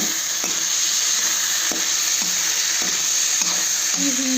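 Vegetable bhaji frying in a pan with a steady broadband sizzle and a series of regular spatula scrapes, close by, with no voice.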